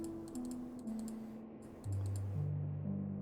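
Rapid mouse clicks during a detective video game, a quick run of light, crisp taps over steady game music with shifting low tones.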